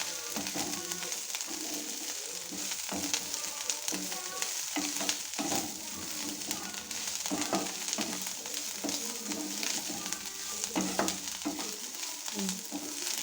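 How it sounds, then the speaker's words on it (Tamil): Ingredients for egg paniyaram roasting in a pan, a steady close sizzle and hiss with irregular stirring scrapes and light clicks running throughout, with no talk over it. "கொஞ்சம் நல்லா வறுத்து மாவில் கலக்கிக்கலாங்க"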